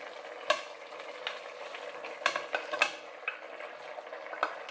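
Potatoes stirred into a simmering homemade pea stew, with a soft bubbling sizzle under scattered scraping clinks of a utensil against the pot.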